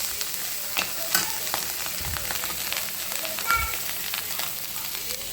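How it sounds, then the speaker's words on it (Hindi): Rice boils in a pot on a home stove, giving a steady close bubbling and soft crackling hiss throughout, with a few louder pops and knocks and no talk. "देखिए यहाँ पे चावल उबल रहा है अभी।"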